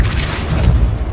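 A Depulso spell cast in Hogwarts Legacy produces a loud, heavy boom that rolls on with low rumbling and swells again near the end. No one speaks.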